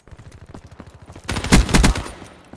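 A burst of loud, rapid automatic gunfire in Black Ops 3, lasting under a second and coming after a run of quieter rhythmic in-game clicks or footsteps, with no voices over it.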